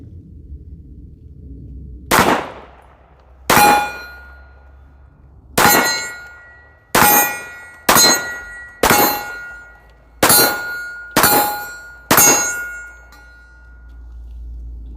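Airsoft BBs strike Krate Tactical steel targets, about nine sharp metallic clangs with ringing tails, spaced a second or two apart, loud and clear against a quiet low hum.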